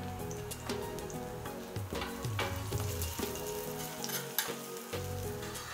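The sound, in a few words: aloo tikki potato patties frying in a pan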